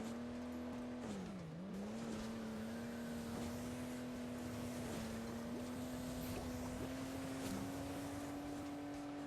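Racing truck in the mobile game Hill Climb Racing 2, its engine a steady, loud synthetic drone with a clear harmonic whine that dips briefly in pitch as the vehicle changes speed, then holds steady throughout with no talk over it.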